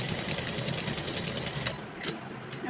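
Sewing machine stitching the shoulder seam of a dress, a fast steady mechanical chatter of needle strokes running close and continuous with no talking.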